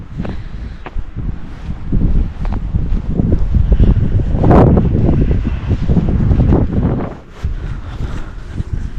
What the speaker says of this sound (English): that wind has just been, it's not, I can't say it's been relentless, but it has been gusty